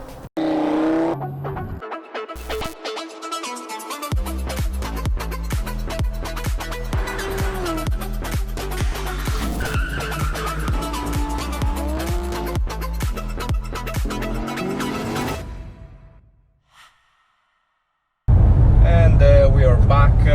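A 2019 Mercedes-AMG E53 coupe laps a race track, its engine roaring loud and sustained through repeated revs and gear changes, then dropping away briefly to near silence before a burst of close wind and cabin noise.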